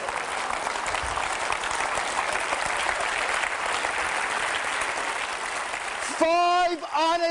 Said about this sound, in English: Give them all a round of applause.